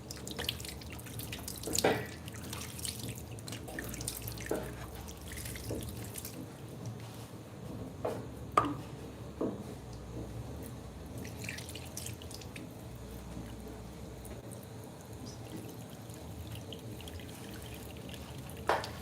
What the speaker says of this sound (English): And then I'll let the water run